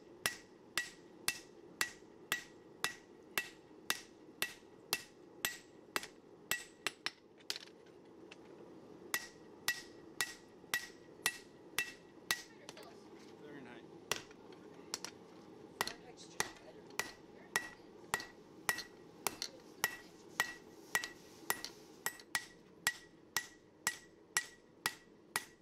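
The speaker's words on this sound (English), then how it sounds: "I smoothed things out on the anvil and started to shape the handle" Metal hammer blows ring out on an anvil while a forged cleaver butcher knife's tapered tang handle is shaped, dozens of sharp, fairly steady strikes in bursts with brief pauses, close and clear over a low background hum.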